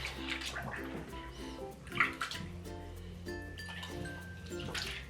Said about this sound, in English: So I'm taking another shirt and I'm soaking it.